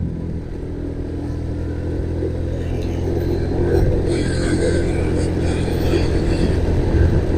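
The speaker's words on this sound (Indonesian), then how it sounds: "Aduh, ada truk pula." A truck's engine rumbles steadily on a steep, winding hill road through dirt-colored countryside, a continuous low drone heard from close by inside a vehicle, with no talk over it.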